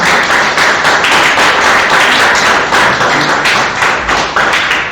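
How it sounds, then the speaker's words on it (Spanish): A church congregation claps loudly and close, a thick continuous roar of many hands with sharp individual slaps audible throughout and no speech over it. "Denle un aplauso al Señor por eso"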